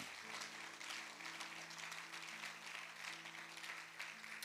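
A church congregation claps and cheers for Jesus during a sermon, a dense steady wash of applause that fills the room throughout, with a sustained musical tone running beneath it.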